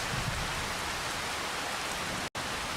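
Rain in Farming Simulator 25, a dense, even hiss of falling rain that is loud and constant, interrupted only by one brief dropout near the end.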